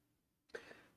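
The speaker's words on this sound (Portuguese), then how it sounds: "me deu uma tosse agora." A single short cough, fairly close but quiet, breaking a brief silence and trailing off into faint room noise.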